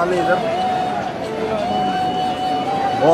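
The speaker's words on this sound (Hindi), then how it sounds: "माता रानी के दर्शन के लिए कितने सारे लोगों की भीड़ है" A crowd of devotees packs the Radha Rani temple in Barsana, a steady murmur of many voices and shuffling movement under someone speaking close by.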